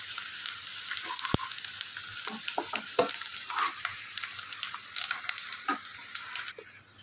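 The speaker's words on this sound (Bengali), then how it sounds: "নারকেলগুলোকে আমি হালকা করে ভেজে নেবো" Grated coconut fries in hot oil with a bright, steady sizzle, punctuated by sharp clacks and scrapes of stirring against the pan.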